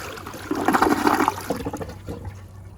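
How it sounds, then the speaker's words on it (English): Rheem Claymore toilet flushing up close, a loud surging rush of water that swells quickly and then tapers into trickling refill. "I might just do a little bit of flushes now."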